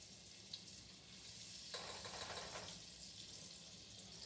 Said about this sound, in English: Nice sizzle going on here.